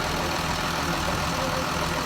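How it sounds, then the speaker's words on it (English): A tractor engine idles steadily at close range, a continuous low rumble with a faint knocking texture and no talk over it. "that tractor's been sitting there idling 10 minutes"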